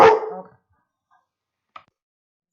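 A dog lets out one loud, close bark at the very start that fades quickly, followed by silence and a faint single yip or whimper a moment later.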